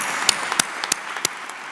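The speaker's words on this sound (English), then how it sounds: "How about a round of applause for everybody in Madison?" Sparse clapping at a university faculty honors convocation, scattered distinct claps over a steady room wash, moderately faint.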